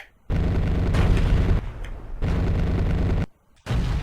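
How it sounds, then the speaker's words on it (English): Bursts of 20mm helicopter cannon fire in the Comanche Gold video game, loud rapid booming volleys lasting about a second each, broken by short silent gaps. "Use your 20mm cannon and finish off the soft targets."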